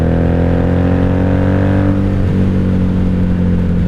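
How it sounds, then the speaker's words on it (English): A 1997 Honda Magna 750 VF750C V4 motorcycle engine and exhaust cruising on a rural road past cornfields, giving a loud, steady, close throbbing drone whose pitch drops as it shifts or eases off midway. "I love the exhaust on this thing"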